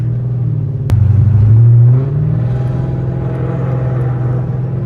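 A cammed Chrysler 300 pulling onto the interstate on a snowy late night, heard from inside: a deep lumpy exhaust rumble that swells briefly as it accelerates, then settles into a steady drone.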